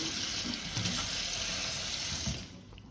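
Water runs steadily from a tap, splashing close by as a cycling shorts pad is rinsed under it, then the flow is cut off near the end.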